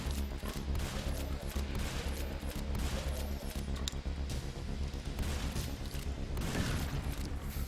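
Gunfire and combat noise from a video game encounter in Hellbreaker fill the whole stretch, a dense, loud, continuous barrage of shots and booms with no voices over it.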